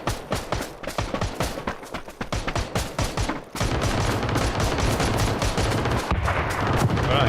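Rapid gunfire in PUBG cracks out in quick repeated bursts for several seconds, loud and close, then gives way to a dense, steady roar.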